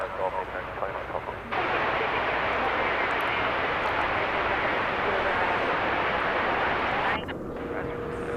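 Jet airliner engine at DFW Airport, a steady broadband roar that swells and holds for several seconds before easing off, distant and fairly faint, with talking over it.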